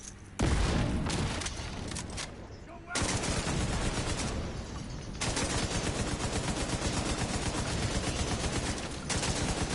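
Rapid bursts of automatic gunfire and a grenade blast in The Division 2, loud and dense, with sustained rattling volleys after a brief pause and short breaks between firing bursts.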